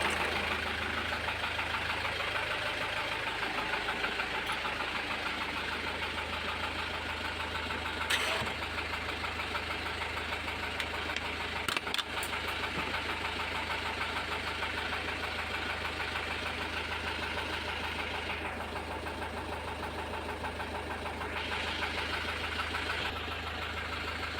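A car engine that needs an overhaul idles with a steady low rumble and a persistent knock, running continuously and close for over twenty seconds, with a couple of brief clicks along the way.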